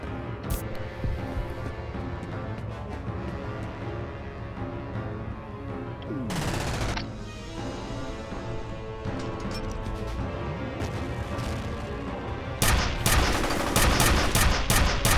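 Gunfire in the first-person shooter game F.E.A.R., loud and nearly continuous, with rapid bursts and heavy crashing shots layered over game music and ambience.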